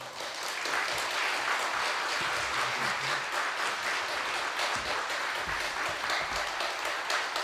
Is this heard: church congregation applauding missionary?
yes